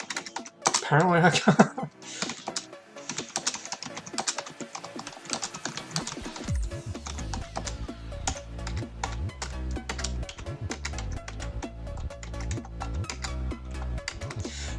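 Quick, steady typing on a computer keyboard while annotations are added in Windows 10, with clustered clicks running throughout and a person speaking briefly near the start.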